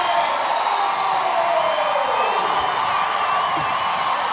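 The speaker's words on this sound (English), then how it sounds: "How about the crowd pop for Jocelyn Alla?" A baseball stadium crowd in Oklahoma roars and cheers in a steady, loud wash of voices with scattered whoops, continuous for the whole stretch.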